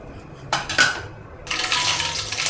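Mustard seeds and urad dal spluttering in hot oil in a pan: crackling and spitting bursts, louder in short flurries and then a steady sizzle, close by with no talking.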